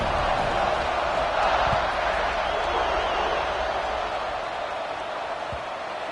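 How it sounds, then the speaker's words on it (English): A football stadium crowd buzzes after a score, a steady, dense roar of many voices that holds loud and level, easing only slightly toward the end. "this crowd is buzzing after that last score."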